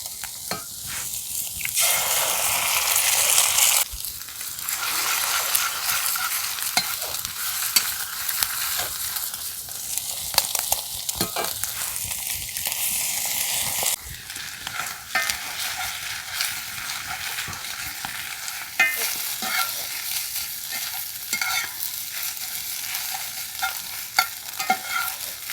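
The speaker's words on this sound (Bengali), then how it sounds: "সবজিগুলো ভাজা হয়ে গেছে, মধ্যিখানে একটু ফাঁকা করে দুটো ডিম দিয়ে দেব" Vegetables and two eggs stir-fried in a pan while noodles are prepared, with steady sizzling, spatula scraping and stirring strokes throughout, loud and close with no talking.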